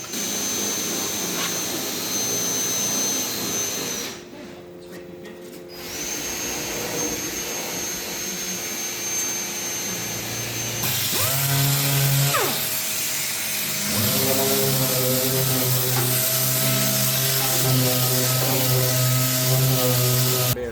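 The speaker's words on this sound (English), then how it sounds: "Now that the welding's all finished, loads of rubbing down." A power sander grinds down welds on a car body, a loud continuous whine with a pitch shift partway through as the tool presses into the metal, close and alone without talk.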